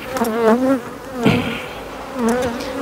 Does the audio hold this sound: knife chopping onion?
no